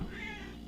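A pet cat gives a single short, close meow right beside the microphone, fairly quiet and alone, with no speech over it.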